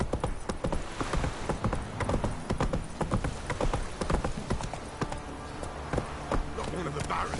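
Roach the horse galloping in The Witcher 3, with rapid, loud, close hoofbeats pounding in a driving rhythm throughout and a brief whinny, over background game sound.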